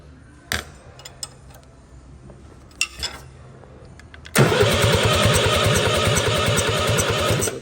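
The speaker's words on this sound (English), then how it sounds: "give him a crank and get some fuel out of him, I guess." An old diesel engine that had been stuck, with a lit glow of worn rings possible, turns over after a few faint clanks, then catches and runs loudly and steadily with a rough rhythmic chug, close by and alone with no talk.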